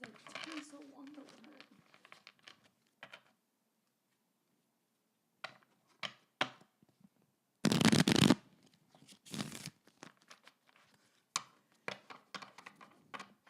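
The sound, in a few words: shuffling playing cards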